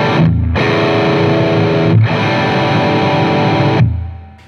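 An electric guitar plays through a high-gain Macron Audio distortion pedal with the bass raised. Loud, sustained, heavily saturated chords ring in three long strummed blocks, with brief gaps between them, then fade out at the end.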